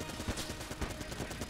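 Rapid repeated gunfire in the game Enter the Gungeon, a dense run of sharp shots at steady moderate loudness with a busy game soundtrack underneath.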